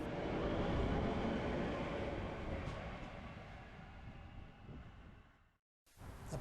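A suburban electric train leaves a Melbourne station bound for Craigieburn, a loud low rumble and rolling wheel noise that slowly fades as it pulls away, followed by a brief cut and quieter station ambience.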